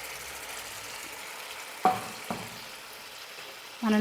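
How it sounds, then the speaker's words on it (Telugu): Onion-tomato paste drops into a prawn curry frying in a pan. There is a steady soft sizzle, then a sharp splat near the middle and a louder burst of frying at the end, close by and with no voices. "ఇప్పుడు మనం ఈ పేస్ట్ని కూరలో అయితే వేసుకుందాము."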